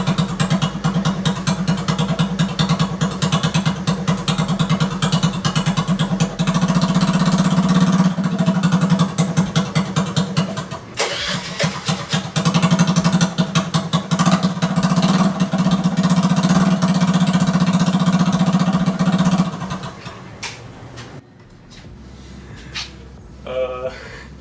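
A Honda Navi motorcycle engine runs with no muffler, giving a loud, raw, continuous buzzing drone with a choppy rhythm for about twenty seconds before it shuts off, followed by brief handling noises.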